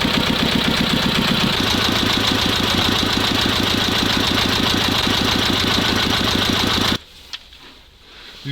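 A T-16 tractor engine idling loudly and close with a fast, even knocking rhythm, then abruptly cutting off and leaving near silence with a faint click.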